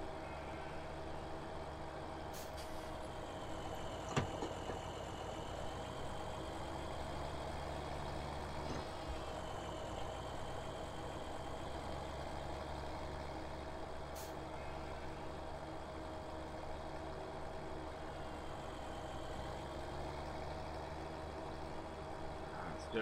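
Tractor engine idling in the Farming Simulator video game on the BallinCraig Estate map, a quiet steady low drone with faint thin tones and a few brief clicks.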